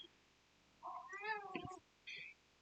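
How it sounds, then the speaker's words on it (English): A pet cat meows in a quiet room where someone is crocheting, with a drawn-out call followed a moment later by a short second mew, both close and fairly soft. "And my kitty cat's come to join us too."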